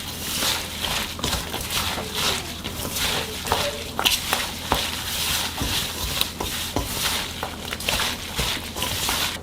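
Hands squeeze and knead aged kimchi mixed with a spoonful of sugar, giving a steady run of wet squelching and rubbing close by, with no talking.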